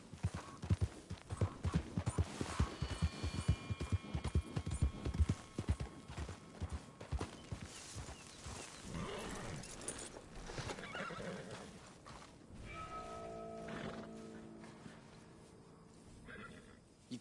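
Horse hooves trot at a steady clip-clop in the Red Dead Redemption western video game, with a whinny. The hoofbeats fade after a few seconds into quieter game ambience with sustained tonal sounds.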